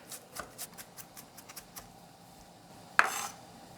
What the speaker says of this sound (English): I minced 4 garlic cloves and green onions.